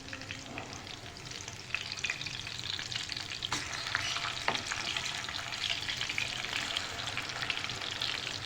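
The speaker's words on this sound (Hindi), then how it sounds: "अब हम इसको स्लो आंच पे फ्राई करेंगे।" Kababs made with raw spices fry in a pan over a low flame, giving a steady close sizzle and crackle throughout with a few sharper spits and pops along the way.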